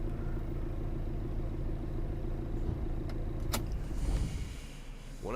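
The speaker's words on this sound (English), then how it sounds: "So here we are in our crappy jalopy." An old jalopy drives along in the video game This Is The Police, giving a steady low engine rumble throughout with a brief click near the end.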